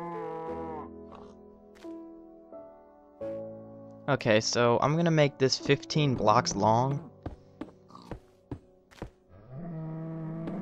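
Cows in the Minecraft video game moo in a few short harmonic bursts amid blocky thunks, and someone talks over them before and after.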